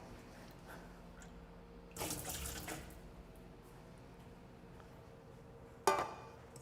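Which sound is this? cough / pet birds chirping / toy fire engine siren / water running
water running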